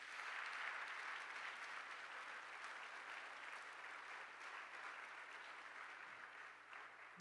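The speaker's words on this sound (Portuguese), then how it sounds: "Se você reconhece, Deus, dê um aplauso a Ele em nome de Jesus." A church congregation applauds together, a steady, dense clapping that holds evenly for about seven seconds with no voices over it.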